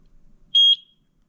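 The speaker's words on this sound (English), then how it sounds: "Press the sync button until you hear the beep." A Eufy E340 video doorbell gives one clear, loud electronic beep of about a quarter second after its sync button is pressed, with near silence around it.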